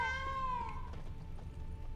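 A cat in The Witcher 3: Blood and Wine gives one long, drawn-out meow with a falling pitch, clear over a low rumble of in-game ambience.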